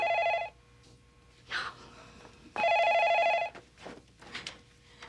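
A telephone rings in two bursts, each about a second long, separated by a pause, loud and close in a quiet room.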